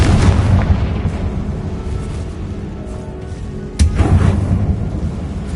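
Hogwarts Legacy's Confringo blasting spell sets off a rumbling explosion, with a continuous heavy low roar and one sharp close blast striking partway through before the rumble carries on.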